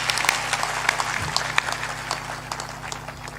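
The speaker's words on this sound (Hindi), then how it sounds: "ताली बजाकर उनका अभिनंदन करें" An audience claps to welcome a guest, a Lok Sabha MP from Khandwa, at a religious discourse gathering in a hall, giving a dense, steady round of applause with sharp individual claps and a faint voice beneath.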